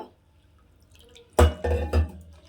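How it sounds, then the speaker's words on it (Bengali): Water is added to a thin flour batter for soybean mutha, giving a short burst of pouring and splashing after a near-silent start, close and fairly loud. "তার একটু জল দেব"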